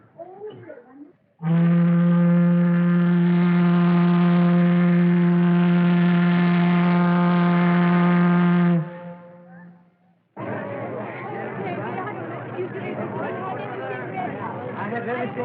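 A long, deep, steady steamboat whistle blast lasting several seconds, preceded by a brief voice and followed by busy crowd chatter.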